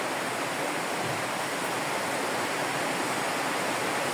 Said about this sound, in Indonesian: sekarang kaki kanannya disiram lagi